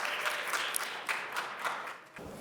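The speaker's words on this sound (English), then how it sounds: "Let's give a warm round of applause for our speakers, David Sanker and Wayne Liu" An audience at a tech business event applauds as two speakers walk onto the stage, a steady burst of clapping with a few sharper individual claps that eases slightly near the end.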